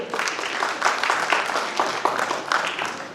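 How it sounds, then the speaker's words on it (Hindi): Audience applause at a university prize-giving ceremony in Jabalpur: a steady patter of many hands clapping in a hall, moderately loud, with a few sharper claps standing out and no speech over it. "हम अपेक्षा करेंगे कि आप सब उनके स्वागत सम्मान में जोरदार तालियों से स्वागत करें।"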